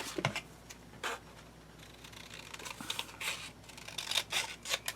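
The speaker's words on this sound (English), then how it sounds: "I'm just going to cut it right." Scissors snip through paper while a display box and mini album are crafted, giving faint close repeated cutting strokes in an uneven rhythm over a quiet room.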